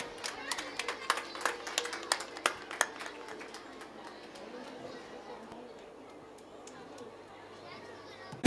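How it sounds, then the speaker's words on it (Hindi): Children clap loudly in a crowd to welcome a municipal councillor at the closing of a moral education camp, with sharp bursts of clapping at first that fade into murmuring chatter. "बच्चों जोरदार तालियां बजा के हमारे निगम पार्षद जी का"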